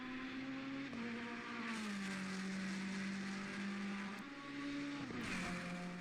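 Race cars, Ferrari, Audi and Porsche among them, lapping a track in practice, heard as a steady distant engine drone whose pitch drops and rises through gear changes, no voices.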